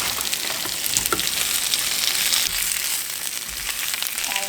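Fresh spinach sautéing in a hot pan for spanakopita, a dense close sizzle and crackle with a brief rustling burst early on as the leaves go in, then an even hiss.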